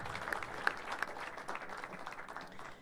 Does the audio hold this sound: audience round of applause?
yes